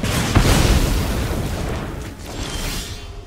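A dragon fire attack spell in a digital card game bursts with a heavy whooshing boom, loud at the start and then fading into a broad roaring hiss over a few seconds.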